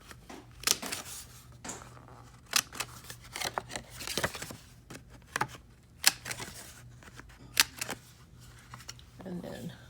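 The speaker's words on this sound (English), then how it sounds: "So I'm going to chomp my corners." Sharp, crisp chomps of a corner punch cutting through heavy 80 pound cardstock, a dozen or so separate clicks at irregular intervals, close and fairly loud, with faint handling rustle between them.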